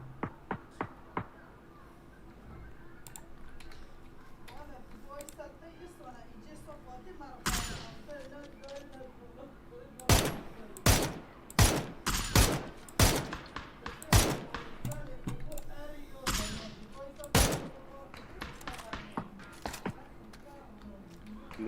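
Gunfire in PUBG Battlegrounds: scattered sharp shots, at first faint and distant, then louder cracks in quick irregular bursts, with someone talking in between.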